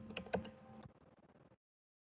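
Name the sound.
typing a printf statement on a computer keyboard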